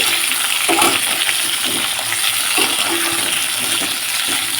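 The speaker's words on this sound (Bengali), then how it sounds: "কড়াইয়ের মধ্যে আমি এগুলো বেশ খানিকক্ষণ নাড়াচাড়া করে নিচ্ছি" Mixed vegetables stirred around a hot wok while cooking a spinach ghonto: a continuous close sizzle with a few soft scraping knocks of the spoon against the pan.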